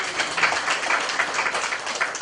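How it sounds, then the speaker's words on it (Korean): A church congregation at a Sunday worship service applauds the worship team, dense steady clapping from many hands filling the room without pause. "찬양팀에 다시 한번 박수 좀 부탁드립니다"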